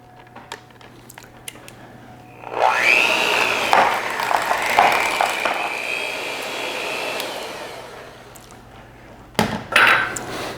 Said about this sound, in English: I have switched to my electric mixer, which will be much faster and won't stick as much as the whisk was doing